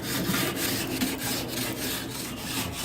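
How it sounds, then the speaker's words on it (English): A metal scraper worked over a hot grill grate while pork chops smoke, making a continuous loud rasping scrape in quick repeated strokes, with no talk. "Give it another scrape down."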